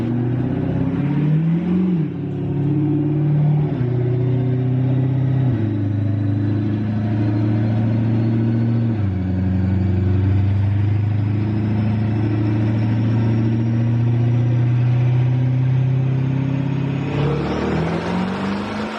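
A supercharged and twin-turbocharged Dodge Charger Hellcat Redeye revs hard on dyno rollers, a loud continuous engine roar that climbs through repeated pulls and gear shifts, heard alone without talk.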